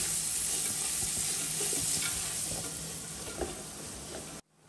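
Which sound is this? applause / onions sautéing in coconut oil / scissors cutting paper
onions sautéing in coconut oil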